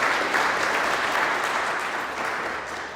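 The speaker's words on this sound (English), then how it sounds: "So let's give them a round of applause as well." Audience at a public talk on local air quality and health applauds the organizing team, a steady, full round of many hands clapping that slowly fades near the end, no talking.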